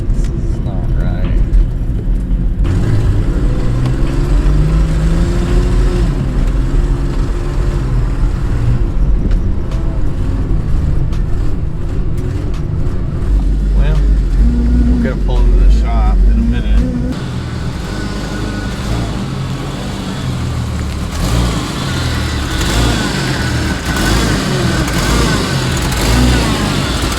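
A Jeep Comanche's engine drones at full throttle while driving, a loud continuous low rumble with road noise inside the cab, steady throughout, with people talking over it.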